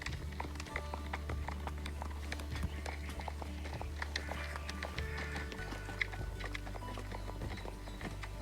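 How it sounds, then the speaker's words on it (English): A horse trotting smoothly under a rider, its hoofbeats a steady, close two-beat rhythm with a constant low rumble of movement beneath. "he picked up his trot really nice, and he has such a smooth trot"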